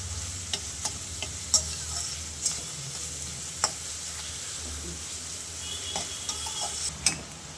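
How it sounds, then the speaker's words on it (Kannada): Onions frying until brown for a dhaba-style potato gravy, a steady close sizzle punctuated by regular light spatula taps and scrapes against the pan. "ಇದನ್ನು ಸ್ವಲ್ಪ ಬ್ರೌನ್ ಆಗೋವರೆಗೂ ಫ್ರೈ ಮಾಡ್ಕೋಬೇಕು ಫ್ರೆಂಡ್ಸ್. ಆನಿಯನ್ನ, ಈರುಳ್ಳಿನ."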